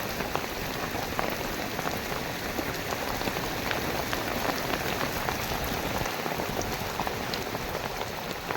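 Heavy monsoon rain pours steadily, a dense, continuous hiss of drops drumming on surfaces close by, loud and unbroken throughout with no voices.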